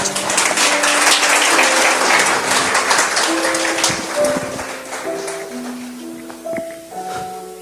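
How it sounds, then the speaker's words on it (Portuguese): A church congregation applauds after a scripture reading, a full wash of many clapping hands that starts strong and gradually thins out, with a few sustained musical tones rising underneath toward the end. "Vamos aplaudir a palavra de Deus?"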